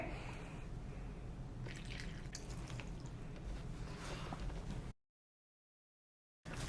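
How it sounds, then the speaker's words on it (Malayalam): Water poured steadily into wheat flour in a bowl while mixing batura dough, a continuous close trickling splash lasting several seconds before a sudden cut to silence, with no talking. "അപ്പോൾ ഞാൻ എനിക്ക് വെള്ളം ഒഴിച്ച് കൊടുക്കുകയാണേ."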